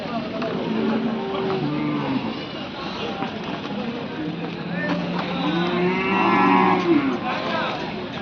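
Cattle and bullocks at the Karad livestock market low out repeatedly, several long moos at varying distances amid a busy crowd, with people talking throughout.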